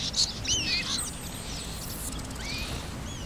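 Crows caw in the video game Castlevania: Lords of Shadow, several sharp, rising calls scattered over a few seconds, fairly faint against a low steady ambient bed, with no talk.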